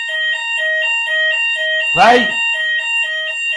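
A smoke alarm goes off with a loud, rapid, pulsing electronic beep that repeats steadily throughout, while someone speaks briefly over it partway through.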